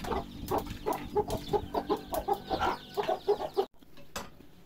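A hybrid fighting chicken clucks in a fast run of short, close calls, then stops abruptly with a brief softer sound after the pause.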